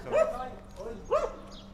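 A small dog barks and yips twice at close range, each bark with a whimpering edge, during a dog training session.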